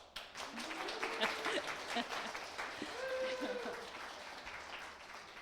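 A crowd applauds steadily, a dense wash of clapping that swells and then slowly tapers off, with a few voices faintly beneath.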